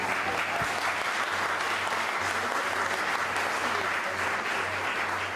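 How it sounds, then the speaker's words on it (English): An audience applauds Custos Emeritus Billy Shaguri at a Justices of the Peace commissioning ceremony, sustained, even clapping from a crowd at moderate loudness over a low steady hum, without a break. "I want you to give him a big round of applause"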